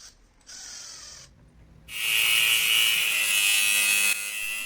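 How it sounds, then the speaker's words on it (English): A power tool cuts quick drainage holes through the bottom of a pressure-treated wood planter box, starting with short buzzing bursts and then a loud, sustained, grinding roar for about two seconds before easing off slightly. "Cutting some quick holes in the bottom for drainage as well."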